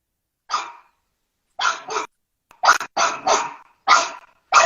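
Excited pet dogs bark loudly and close by in a series of sharp, separate bursts, some doubled, with short silences between them and no talking.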